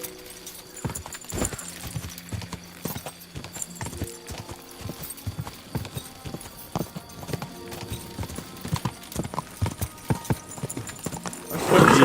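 Horse hooves in Kingdom Come Deliverance 2, a close, steady clip-clop of a walking horse on firm ground repeating over the whole stretch, with a louder burst at the very end.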